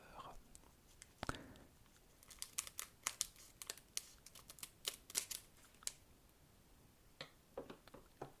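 A Pokémon booster pack is opened with scissors: a run of quiet crinkles, snips and sharp foil tearing clicks, close and faint, with a few pauses between the bursts.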